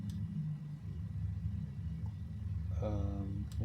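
A tractor engine in a farming video game holds a steady low idling rumble throughout, with a short tonal sound briefly rising over it near the end.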